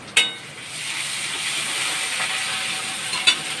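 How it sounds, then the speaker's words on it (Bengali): Onions fry with a spoonful of ginger garlic paste, making a loud, steady hissing sizzle close by, opened and closed by sharp clinks of a utensil and no voices. "1 চামচ আদা রসুনের পেস্ট দিয়ে আবার ভাজবো।"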